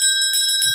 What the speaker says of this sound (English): anytime I hear a bell from here on out